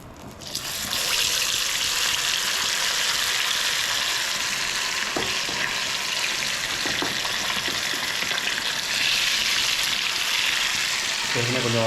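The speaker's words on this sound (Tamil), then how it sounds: "இங்கே பக்கத்தில் சிக்கன் வறுக்கிறோம்" Chicken frying in a pan during Indian-style cooking, a steady loud sizzle with hissing and faint stirring clatter, close to the pan.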